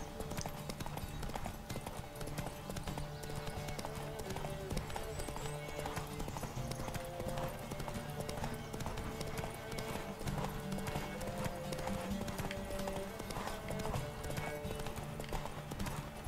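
Horse hooves clip-clop steadily at a brisk riding pace in The Witcher 3: Wild Hunt, a continuous rhythmic gallop layered over game music and ambience, with a short whinny.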